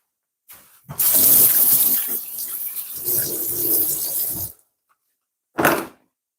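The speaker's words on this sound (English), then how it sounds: "Just gonna wash my hands" Hands being washed under a running kitchen tap after putting a crumble in the oven, a steady loud splash of water lasting several seconds before it stops, then a brief final burst.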